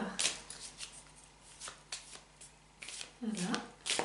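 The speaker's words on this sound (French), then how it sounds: "laissez-moi aller assortir ces cartes" Oracle cards being shuffled by hand, a run of quick papery riffles and slides in short bursts with pauses between, close and fairly quiet, with faint speech around them.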